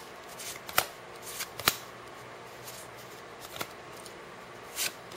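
Battle Spirits trading cards are handled while a booster pack is opened, making close, soft rustles and a few sharp crinkling snaps and swipes over quiet background hiss.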